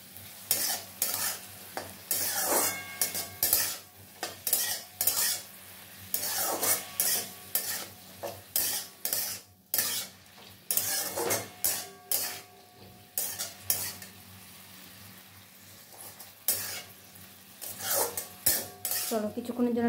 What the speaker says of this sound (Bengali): সব উপকরণ দিয়ে নাড়িয়ে চাড়িয়ে আবার কিছুক্ষণের জন্য আমি ঢাকা দিয়ে রেখে দেবো